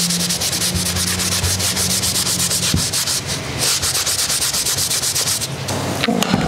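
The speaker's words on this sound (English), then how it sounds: "So I'm gonna use a larger wax brush." A large wax brush rubbing wax onto an altered glass bottle, a close, steady scrubbing hiss with fast repeated strokes throughout, no talking.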